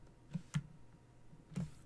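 A home computer keyboard is typed on briefly as a telnet command goes in, giving three soft, separate key clicks spaced unevenly over about two seconds, quiet and close, with no talking.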